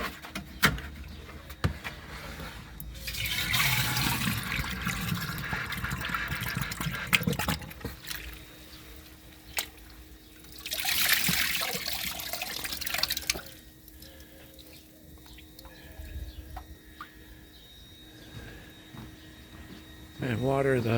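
Rainwater runs from a garden tank into a trash-can container in two separate pours, each a steady splashing gush, with quieter gaps and a little talk between them.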